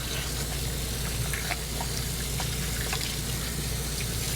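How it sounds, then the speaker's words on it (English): A tap runs steadily into a small farmhouse-style sink while grease is washed off hands, giving a constant, fairly loud broadband rush with faint splashes and no talk. "I'm washing the grease off my hands now"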